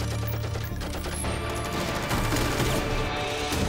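Powerful guns blaze in a film shootout, a dense, loud barrage of rapid shots and cracking impacts filling the whole stretch without pause.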